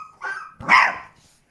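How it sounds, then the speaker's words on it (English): A Presa Canario puppy barks close by, two short sharp yelps about half a second apart, the second louder, followed by a brief onset of another sound at the end. "Why are you barking?"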